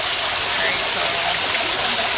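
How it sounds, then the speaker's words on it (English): Small water fountain splashing in a sunken garden, a steady close hiss of falling water filling the whole moment without pause. "got a little water fountain up here"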